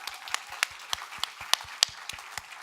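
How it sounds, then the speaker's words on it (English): An audience at an annual conference panel in Melbourne gives a round of applause, sparse sharp claps at a brisk, fairly regular pace, moderately close, without talk. "Let's give Jimmy a big round of applause."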